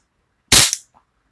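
A single sharp gunshot from a Taurus PT92 pistol at an indoor shooting activity, loud and close, with a short decaying tail and no voices.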